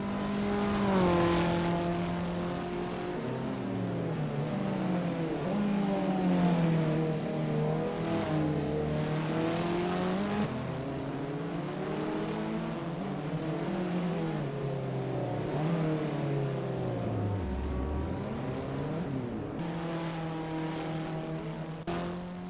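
Abarth 500 race cars from the Assetto Corsa racing game warming up at the Circuit de Pau, several small engines droning and shifting pitch together in a steady, continuous mechanical hum, close and loud throughout with no talk.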